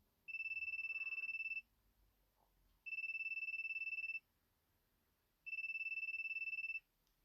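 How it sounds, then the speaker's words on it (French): A telephone rings three times, each steady electronic ring lasting over a second with even pauses between, clear and alone against near silence. "Le téléphone sonne un moment, mais elle finit par répondre."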